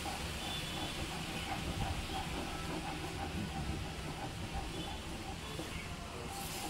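About a cup of milk boiling in a pan while being stirred for a bread sandesh sweet, giving a continuous close hiss and simmering rush with no pauses.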